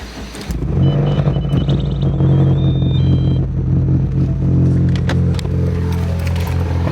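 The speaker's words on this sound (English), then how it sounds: "Y'all hear that rumbling, bro? It's not supposed to do that. This is not a V8." A non-V8 car engine cranks and starts, then settles into a loud, deep, steady rumble with irregular low pulsing, heard close up with no talking.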